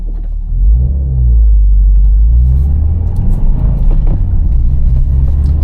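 A VB Subaru WRX heard from inside while driving on the road, its engine a deep, steady rumble that swells as the car accelerates, with no talking.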